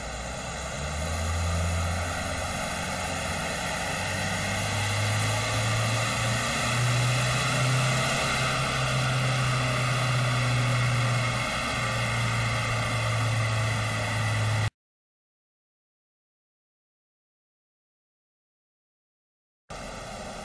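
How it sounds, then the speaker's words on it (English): Isuzu D-Max 1.9 diesel engine held at a steady drone on a dyno, loud and continuous with a slowly rising tone, then cutting to silence before resuming briefly at the end. "This is the dyno before run."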